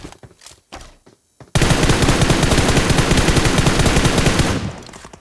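After a few scattered shots, sustained rapid automatic gunfire erupts in a video game, a loud unbroken burst lasting about three seconds before cutting off.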